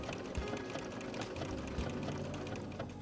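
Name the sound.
Brother PC8500 sewing machine stitching with side cutter foot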